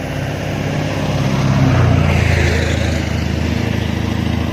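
A lawn mower engine runs steadily at close range, a loud continuous drone with a slight swell in the middle, being readied to cut grass heavily covered in clover.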